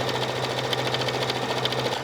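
A sewing machine stitches steadily around the lining of a cross-body bag, a close, even, rapid mechanical hum and patter running without a break.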